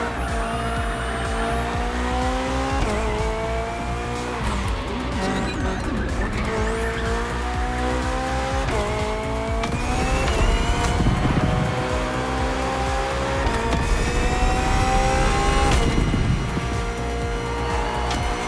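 BMW hybrid V8 race car in The Crew Motorfest, engine roaring loud and close throughout with rising and falling revs through gear changes, tires squealing and skidding in corners, with no voices.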